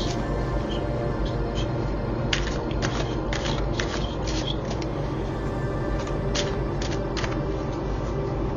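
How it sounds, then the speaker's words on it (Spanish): Tarot cards are shuffled by hand in quick bursts of crisp riffling and flicking, close and fairly quiet over a low steady background hum. "mientras yo voy barajando las cartas."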